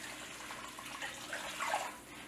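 Vegetarian beef-style broth poured into a soup pot for vegan lentil soup, a soft steady liquid stream for a couple of seconds, fairly quiet and close, with no talking.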